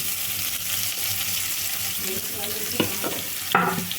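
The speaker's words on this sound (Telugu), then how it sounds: "ఉల్లిపాయ ముక్క కూడా వేగాలండి" Oil sizzles steadily under chopped onions, with a few sharp clinks and scrapes of a utensil stirring the pan near the end.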